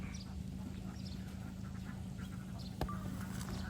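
Laying ducks on a farm in Nong Kaeo, Roi Et, make a steady murmur of scattered quacks against a constant low drone, with one sharper call standing out near the end and no talk over it.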